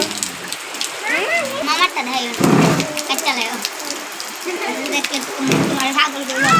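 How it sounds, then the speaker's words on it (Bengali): Heavy rain drums steadily on a tin roof outside a house, a dense constant patter running through the whole stretch while children's voices and other speech come and go over it. "বাইরে প্রচন্ড বৃষ্টি হচ্ছে"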